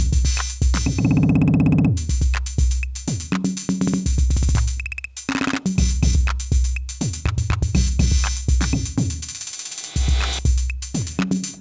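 An Arturia DrumBrute analog drum machine loops quick, busy patterns of thumping kicks, snappy snares and ticking hats, loud and close, with stuttering repeats of single sounds.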